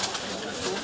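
A pigeon coos softly on a rooftop in Ras Al Khaimah, UAE, a brief low murmur under a wash of hiss and background noise.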